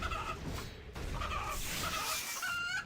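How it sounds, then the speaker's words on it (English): Chickens cluck in a barnyard in the video game RuneScape, a steady run of fowl calls that fills the whole short stretch at an even, moderate level, with no talk over it. "Looks like I'm not the only one killing chickens in the barnyard"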